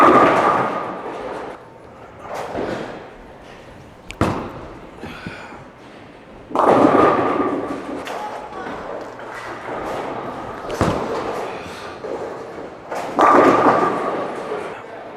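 Bowling balls rolled down a lane into the pins. Several heavy thuds and clattering crashes come at separate moments, with quieter rumbling between them.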